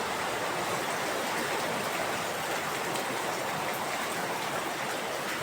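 Water leaking in a house kitchen pours and splashes as a dense, steady hiss, loud and close, with no break and no voices.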